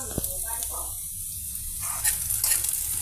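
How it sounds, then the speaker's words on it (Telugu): Boiled potato pieces frying in oil, a steady sizzle and hiss with occasional stirring clatters and sharper bursts, close and moderately loud. "మన ఆలూస్ అదేనండి బంగాళదుంపలు ఏ విధంగా ఫ్రై అవుతున్నాయండి"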